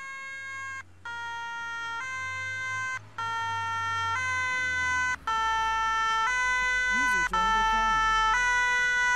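A two-tone fire engine siren in the game ARMA 3 alternates steadily and loudly for several seconds, with brief cuts in the tone and voices talking faintly underneath.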